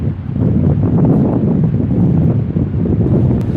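Strong wind buffeting a microphone outdoors at Blackpool, a loud, continuous low rumble that rises and falls in gusts, with no one speaking.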